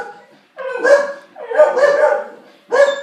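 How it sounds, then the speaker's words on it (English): A dog barking sound effect: three loud, close, drawn-out barks and yelps with a whimpering, howl-like tone, separated by short silences. "how do you like that for sound effects? Sounds just like real dogs"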